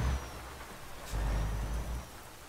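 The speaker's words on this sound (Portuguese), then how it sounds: "que da hora a chuva" Rain in Euro Truck Simulator 2, a steady hiss of rainfall over a deep engine-like rumble from a truck, the low drone swelling in the middle before settling back, with no one talking.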